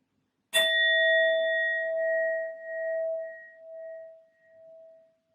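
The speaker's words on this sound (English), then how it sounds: "I'm first going to use my sound bowl to clear and set the energy" A sound bowl struck once, giving a clear ringing tone that sustains and slowly fades over several seconds, close and alone in quiet surroundings.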